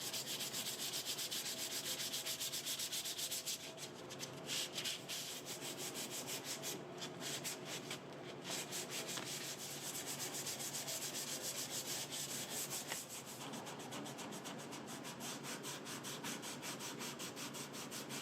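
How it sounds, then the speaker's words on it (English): Steady, continuous sanding scrape on the wood of a vintage dresser, rough and even, with brief dips in intensity and no talking. "Once everything is sanded smooth"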